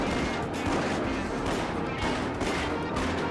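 Dense, continuous gunfire from the Starsky & Hutch video game, a loud unbroken barrage of shots with no clear gaps, running steadily at the same volume from start to end.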